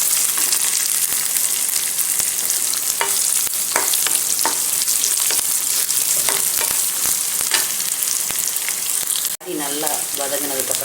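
Shallots and curry leaves sauté in oil as a tempering for roadside-style chutney, crackling and sizzling loudly and steadily up close, punctuated by stirring scrapes, with a brief sharp dip near the end and a different hiss after.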